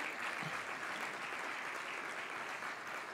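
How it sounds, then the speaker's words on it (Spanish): An audience at a regional seminar gives sustained, even applause to three educators, many hands clapping in a continuous wash that is fairly quiet and distant and carries no talk. "Agradecemos entonces a estas tres educadoras con un fuerte aplauso."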